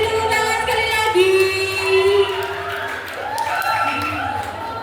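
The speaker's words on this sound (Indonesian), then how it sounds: "kita beri tepuk tangan sekali lagi." An audience at an Indonesian graduation event claps in a sustained burst, a busy wash of hands with cheering tones and a voice speaking over it, steady and fairly loud.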